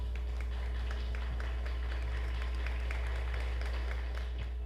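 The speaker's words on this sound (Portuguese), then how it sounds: "aplauda Jesus bem forte que ele merece" A church congregation claps at a distance, a thin patter of applause sitting beneath a strong, steady low hum.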